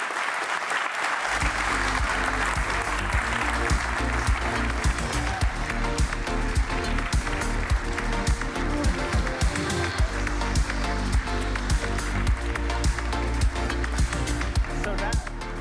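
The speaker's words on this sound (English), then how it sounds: "have a round of applause" An audience claps steadily in sustained applause, with music playing underneath and a voice speaking over it.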